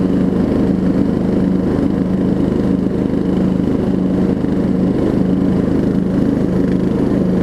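Murray riding lawn mower engine running with its high lift blades engaged, a loud, steady, close droning rumble with an even throb that continues unchanged throughout, with no talking.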